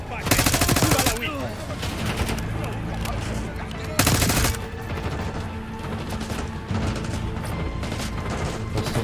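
Gunfire in Call of Duty Black Ops 6, with rapid automatic bursts and sharp shots crackling through dense combat noise, loud and close, with heavier blasts near the start and around the midpoint.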